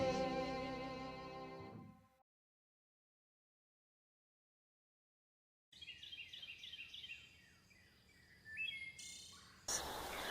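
Birds singing at morning: layered chirps and warbling calls, first in a dense bright burst, then after a silent gap returning as scattered tweets, trills and insect-like buzzing at moderate distance, no voices.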